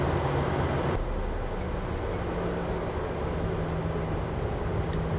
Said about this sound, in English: and then do a takeoff roll.